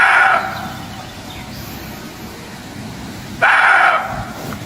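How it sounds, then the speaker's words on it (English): A dog barks frantically in a forest, with two loud bursts, one at the start and one near the end, over a steady outdoor background. "Her dog's ears perked up, his body tensed, before he erupted into frantic barking"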